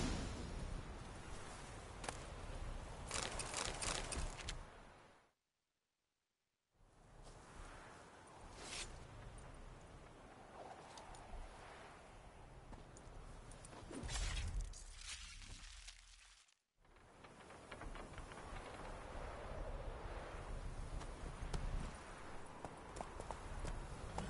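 Horse hooves clip-clop in a steady rhythmic gait in a video game, fairly close and continuous, broken by two brief silent gaps, with faint background clatter.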